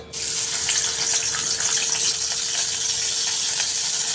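Onions dropped into hot oil for cooking noodles, a sudden bright hiss that starts right away and holds as a loud, steady sizzle throughout, with no talking.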